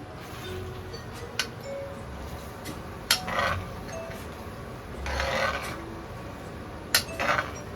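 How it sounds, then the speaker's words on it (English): Cooked, drained macaroni is stirred into cheese sauce in a pot, giving soft wet rubbing and scraping in several short bursts, with an occasional utensil clink against the pan. "Now put it in and stir it in the cheese sauce."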